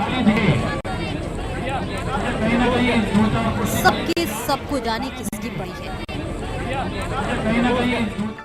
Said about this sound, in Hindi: अरे भाई, कितनी भीड़ है।